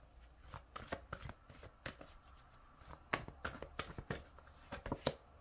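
Tarot cards are shuffled and drawn by hand, giving quiet, close riffles and soft slaps in irregular bursts.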